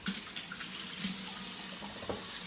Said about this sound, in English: to wash your hands